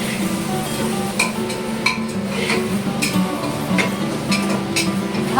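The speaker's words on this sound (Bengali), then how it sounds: "এবার আমি ভালো করে জিনিসটাকে মিশিয়ে দিই" Food mixed in a pan over low sizzling, with scattered utensil scrapes and clinks against the pan over a steady cooking hiss, no voices.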